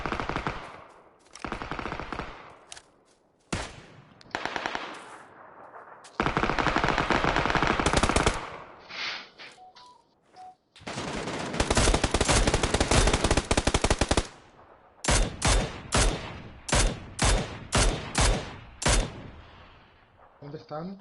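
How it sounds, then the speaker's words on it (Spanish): Gunfire in PUBG on PS4, loud, close bursts of automatic fire in long sustained volleys and then rapid short strings, with a few single cracks and a voice talking briefly between shots. "Me acaban de disparar."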